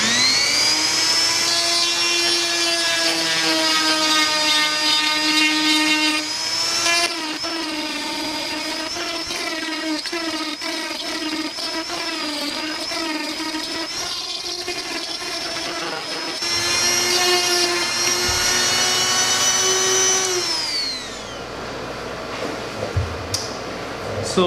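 A power tool cuts a groove into a plastic car front bumper with a steady, loud, high-pitched whine that shifts pitch as it bites into the material, running close and alone for most of the time before it winds down.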